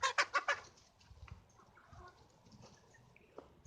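Chickens cluck nearby: a quick run of four loud, sharp clucks opens, then softer, scattered clucks and rustling follow.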